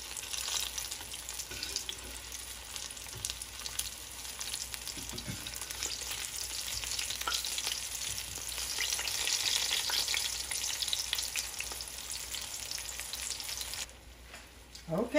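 Green tomato slices fry in a pan with a steady, close crackling sizzle that runs for about fourteen seconds, then cuts off abruptly near the end.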